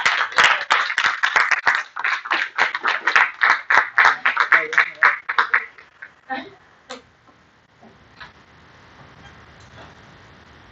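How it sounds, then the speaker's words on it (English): Scattered audience clapping at a Toastmasters club meeting, a few pairs of hands beating unevenly for about six seconds before thinning out into room quiet with faint speech. "Come on, guys, clap."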